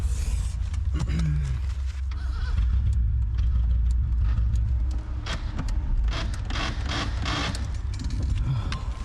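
Ghostbusters Ecto-1 car engine cranking repeatedly without catching, a loud, continuous low mechanical churn with rhythmic starter pulses and no voices.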